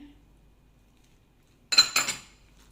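A short burst of clinking and scraping as shanghai filling is mixed with flour in a bowl, a quiet pause followed by a few quick close utensil-on-bowl knocks.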